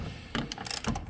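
Short, quick mechanical ratcheting from a wrench tightening bolts on the upper control arm of a 2000 Dodge Durango 5.9L V8, a few close clicks in rapid succession.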